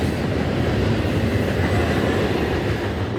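A train rolls past close by on railroad tracks in an industrial area, a loud, continuous rumble and clatter of cars and wheels filling the clip with no talk.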